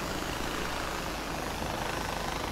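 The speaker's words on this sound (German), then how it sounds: "So ein selbstgebastelter Hubschrauber." A homemade helicopter in the video game Far Cry 4 flies with a loud, dense, unbroken rotor-and-engine roar that holds steady throughout, with no voices over it.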